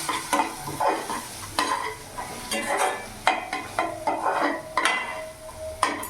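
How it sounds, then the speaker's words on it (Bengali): Cumin, red chili and coriander powder stirred in a hot pan for a mushroom gravy, rhythmic scraping strokes of the spoon over a soft sizzle, close and fairly loud, with faint pan clinks. "ভালো করে আমি মিশিয়ে নেব।"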